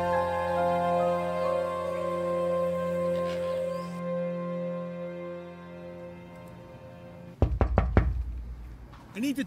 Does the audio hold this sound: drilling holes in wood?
no